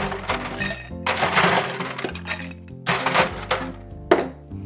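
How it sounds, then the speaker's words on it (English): Ice cubes tumble into a tall Collins glass for a Harvey Wallbanger: several bursts of clinking, cracking and rattling, loud and close, with short pauses between scoops and no talk. "fill it full of ice."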